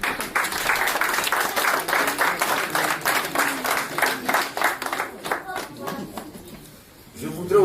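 An audience applauds Madame Fatou Balambiré at a gathering, steady loud clapping from a crowd that fades out, followed by a voice speaking at the very end.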